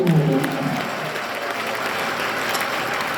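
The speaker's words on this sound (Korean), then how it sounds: "하나님께 영광의 박수" Audience applause at a religious gathering, a dense steady wash of clapping from a large crowd sustained throughout, with a brief voice at the very start.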